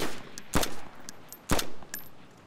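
M4 rifle fire in the video game DayZ: two short bursts of gunshots with a few fainter shots between them, fairly loud and without speech.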